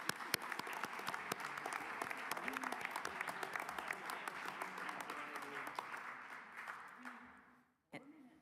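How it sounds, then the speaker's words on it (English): Audience applause for competitors at an award ceremony, a steady, dense clapping that holds for about seven seconds before fading out near the end. "let's give a round of applause to all of our competitors."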